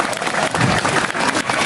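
Dense, continuous applause from a crowd at a Balinese temple performance, loud and close, a steady wash of clapping throughout.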